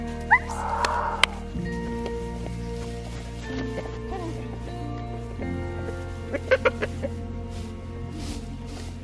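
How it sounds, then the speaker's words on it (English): Chickens cluck and squawk intermittently, with a few sharp calls near the end over a low steady hum. "Go chickens, get out of here."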